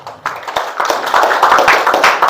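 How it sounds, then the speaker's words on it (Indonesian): At a church seminar, an audience claps for the pastor, a loose scatter of claps at first that builds into fuller, louder applause. "tepuk tangan untuk Abang Inang Pendeta"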